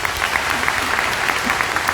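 Audience applause at a Pehchan event in Vadodara, a dense steady patter of many hands clapping throughout the short stretch.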